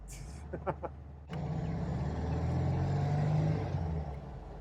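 A 1973 VW Super Beetle's engine pulls away under acceleration, a steady close rumble that swells and holds after a brief voice at the start.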